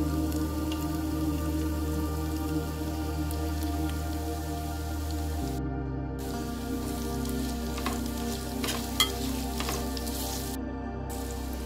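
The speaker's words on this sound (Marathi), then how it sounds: "आता आपण टाकूयात सुके मसाले।" Dry spices fry with onion and ginger garlic paste in a pan for a soybean vegetable pulao, a steady close sizzle with a constant hum beneath and occasional stirring scrapes.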